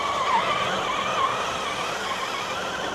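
An RC car's tire spinning on a cold, snowy trail: a continuous high-pitched motor whine with a wavering pitch, holding loud and steady throughout, with the revs dipping and rising slightly.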